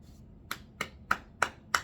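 Five sharp, evenly spaced hand claps, close and fairly quiet, each crisp hit standing alone in a still room.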